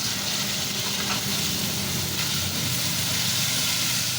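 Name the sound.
sliced tomatoes frying in a pan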